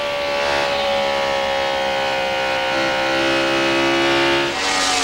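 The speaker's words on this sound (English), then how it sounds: "You can hear that engine noise from the in-car Camry." Onboard a 1998 Indy Racing League car at speed, the engine screams at high revs in a loud, continuous whine whose pitch climbs and dips slightly, ending with a brief lift and a fresh surge.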